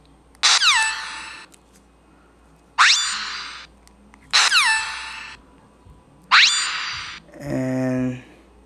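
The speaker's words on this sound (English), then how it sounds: "There's a lock and unlock" Metal Gear Solid themed phone lock and unlock sound effects: four sharp descending electronic chirps in a steady rhythm, followed by a rising buzzy tone, loud and close with nothing else heard.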